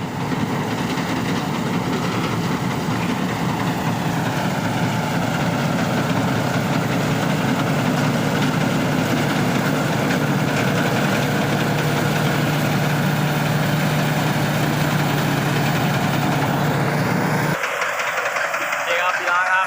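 A Big 37 combine harvester engine, a six-cylinder unit, idling loud and close at a rice harvest, a constant heavy rumble that cuts off abruptly near the end, with a voice talking over it.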